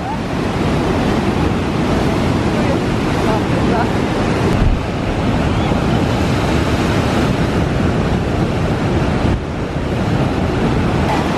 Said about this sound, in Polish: To są duże fale, już naprawdę duże.